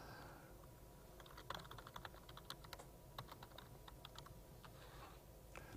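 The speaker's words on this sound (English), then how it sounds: "I'm just typing in the room here." Someone types on a computer keyboard in a quiet room, a faint, irregular patter of close key clicks in quick bursts over a low background hum, with no talking.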